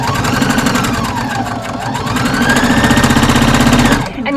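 A domestic sewing machine stitches fabric under a lowered presser foot, including a back stitch: a loud, rapid mechanical chatter that slows briefly, speeds up again, then cuts off abruptly near the end.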